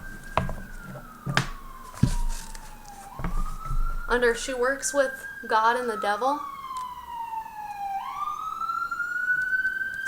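Sirens pass outside, rising and falling in long wailing sweeps at the start and again near the end, with someone talking over the middle stretch.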